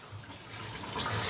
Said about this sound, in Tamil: இப்போ எங்களோட உலைக்கு தேவையான அளவுக்கு தண்ணியை நிறைச்செடுப்போம்.